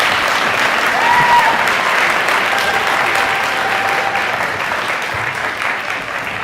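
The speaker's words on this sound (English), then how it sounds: "Let's give them all one more round of applause." An audience at a school IT Academy year-end celebration applauds students, with dense sustained clapping from a large crowd that fades slightly toward the end.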